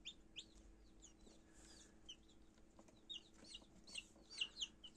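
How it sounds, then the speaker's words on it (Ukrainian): Newly hatched chicks of mixed chicken breeds cheep in a brooder, a scatter of high, thin peeps in irregular bursts, close but soft, over a faint low hum. "Ціпоньки у нас на світ з'являються. Курчатка у нас змішаних порід курей."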